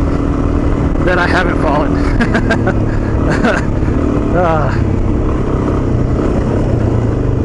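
Dual sport motorcycles ride the off-road trails of Anza Borrego, making a loud, steady engine drone with wind rush, while a rider talks over it.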